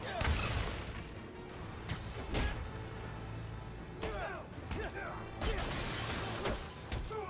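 Bomb blasts in the Spider-Man: Miles Morales video game come as several sharp, crashing bursts spaced a second or two apart, with someone talking over the action between and during the hits.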